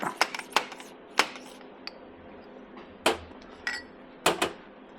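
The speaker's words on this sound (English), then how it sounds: "Then we'll take our fork seal, oil seal, drive it." A fork oil seal is driven into a Dal Soggio bicycle suspension fork in a workshop, giving sharp metallic taps that come singly and in small clusters, clear and close, with quiet between the strikes.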